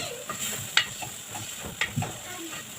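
Garlic fries in a small amount of oil for an okra dish, a soft continuous sizzle broken by light clicks and taps of a spoon against the pan, close and without talk.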